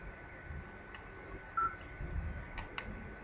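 Brief dialing tones from a VoIP phone during a network setup, a few short beeps spaced apart over a low hum of room noise.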